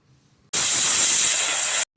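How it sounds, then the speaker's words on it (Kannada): A pressure cooker on the stove, cooking chickpeas with water, asafoetida and salt, releases one loud, sustained steam whistle for over a second, with sharp start and stop amid quiet kitchen background. "ಈಗ 3 ವಿಷಲ್ ಆಗಿದೆ."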